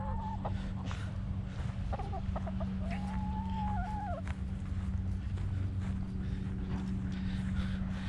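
Chickens cluck and call softly over a steady low hum on a homestead by the coop and compost, with faint animal sounds scattered through.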